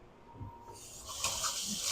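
Something is rinsed under a running kitchen tap, water rushing into a sink, quiet and close, swelling louder toward the end.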